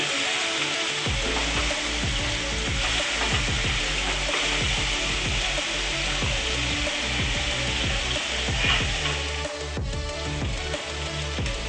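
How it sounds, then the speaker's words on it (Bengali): Tandoori chicken frying in a pan as the second side cooks, a loud continuous sizzle with repeated scraping and clicking throughout. "এবারে অন্য দিকটাও আমি ভালো করে ফ্রাই করে নেব।"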